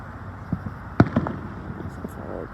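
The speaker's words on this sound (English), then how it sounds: "Oh, look at that cluster firework." A cluster firework bursts during a Fourth of July grand finale show, giving one sharp crack followed by a few crackling pops and scattered smaller bangs, heard at a moderate distance over steady crowd murmur and voices talking.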